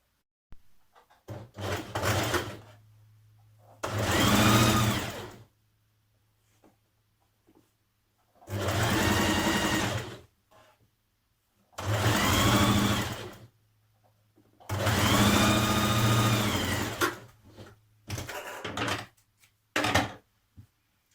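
A sewing machine runs the centre seam of a Burda 6320 dress with a 1.5 cm seam allowance, in five separate bursts of steady whirring split by short pauses, close and clear with no talking.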